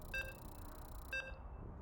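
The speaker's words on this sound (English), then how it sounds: "As you can hear the beeps, and we're loading into the ace match" Two short electronic beep chimes sound as a StarCraft 2 match loads, spaced about a second apart, clean and fairly quiet over a soft background hum.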